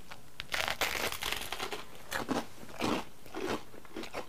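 Crisp, close bites into crunchy fig crostini, a series of sharp crunches followed by chewing, quiet and intimate with no talking.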